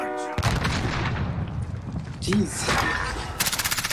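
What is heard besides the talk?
gunfire in video game Call of Duty Warzone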